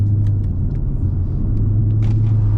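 The V8 exhaust of a Lexus IS F gives a steady, deep, close rumble at an even idle or cruise throughout, with a few faint clicks on top and no talk.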